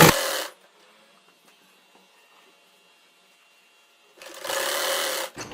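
A sewing machine stitches the sleeves onto a girl's kurti shirt in two short, loud bursts of whirring needle action, one at the start and one at the end, with near silence in between.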